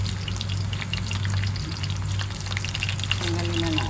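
Fish deep-frying in hot oil gives a dense, continuous crackling sizzle, close and steady throughout, with faint kitchen movement beneath it.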